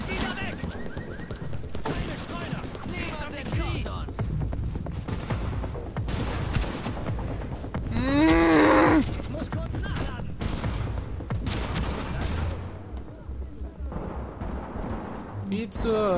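Gunfire in Tom Clancy's The Division, a dense run of shots and bursts running throughout with a louder blast near the middle, mixed under someone talking.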